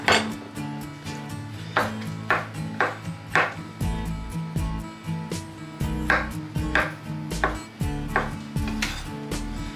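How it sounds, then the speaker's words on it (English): A knife chopping mushrooms small for Hungarian mushroom soup, sharp close thuds on a cutting board in uneven bursts, with light clinks of utensils and a low hum between strokes. "So the rest of these I'm gonna chop small."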